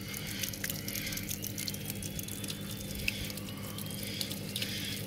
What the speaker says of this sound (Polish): Wypompowywanie wody, więc pompa działa.